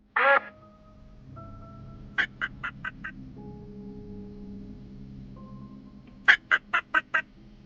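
A swan calls with one harsh honk, then two quick bursts of five short honks each, over soft sustained musical notes.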